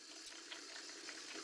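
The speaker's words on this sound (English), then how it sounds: "I just needed a little more water" Tap water runs steadily onto lemon and tea tree soap lather, a continuous soft hiss with no talk over it.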